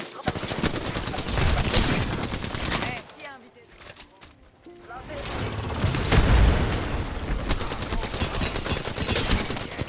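Gunfire in the video game Apex Legends, dense automatic bursts and booming shots packed tightly and loud, easing briefly midway before resuming, with players talking over the action.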